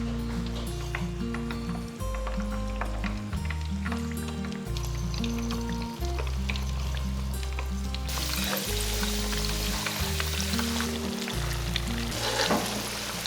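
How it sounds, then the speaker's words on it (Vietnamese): Shrimp and sweet potato batter fritters frying in oil in a pan give a continuous, close sizzle and crackle, with steady bubbling that grows brighter and busier partway through; background music plays throughout. "Nhanh tay mình cho vá bột vào chảo để chiên nè."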